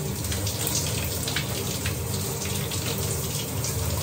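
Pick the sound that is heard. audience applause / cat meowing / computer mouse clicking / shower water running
shower water running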